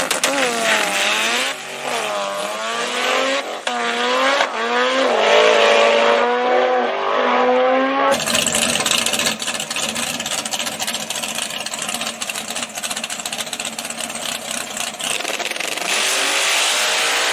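No-prep street outlaw drag race cars accelerate hard, with loud engines climbing through rising revs and gear changes, then a harsher, sustained roar after a cut.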